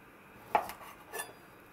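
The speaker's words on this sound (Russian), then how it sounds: "такие вот длинненькие я хочу разрезать еще пополам" A knife cutting smoked pork ribs into pieces on a board in a kitchen, two distinct clacks of the blade striking through, close and fairly quiet, with no speech.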